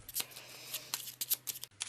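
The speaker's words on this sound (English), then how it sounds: "give these a quick shuffle" Quick riffle-shuffling of a deck of cards during a game of Eldritch Horror, a close, crisp burst of papery flicks and taps in rapid irregular rhythm, fairly quiet with no talking.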